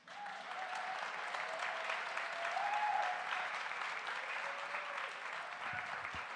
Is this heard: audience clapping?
yes